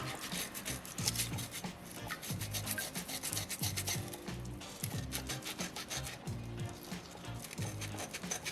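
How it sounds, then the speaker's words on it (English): Steady rasping and rubbing as a soapstone polar bear carving is ground down by hand, repeated scraping strokes in a close, continuous rhythm. "gotta grind in a little bit more"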